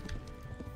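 A horse galloping through bushes in Kingdom Come: Deliverance, with a quick run of muffled hoofbeats and a faint whinny heard up close for a brief moment.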